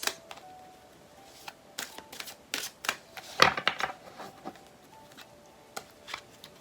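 Archangel Power Tarot cards being shuffled, a run of crisp papery riffles and flicks in irregular bursts, close and fairly quiet, with no talking.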